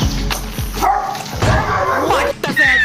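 A dog confronting a goat lets out a series of loud, close, sharp barks and yelping yips in quick bursts across about three seconds.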